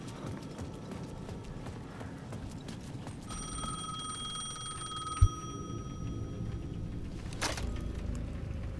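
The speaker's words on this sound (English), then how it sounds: "The payphone at the edge of the plaza was ringing again." A payphone rings at the edge of a plaza in the Alan Wake 2 video game, a steady tonal electronic ring from about three to six seconds, heard mid-distance over dark ambient rumble and footsteps.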